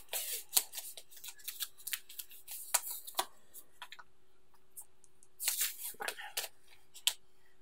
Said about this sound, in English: then we're going to actually tape it to the front beam